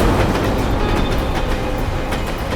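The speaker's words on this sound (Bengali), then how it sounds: "আর ট্রেনের আওয়াজও শুনতে পেয়েছিলাম আমি।" A train rolls past as a drama sound effect, a loud, close rumble with rhythmic clickety-clack wheel knocks running throughout, heard alone with no talking.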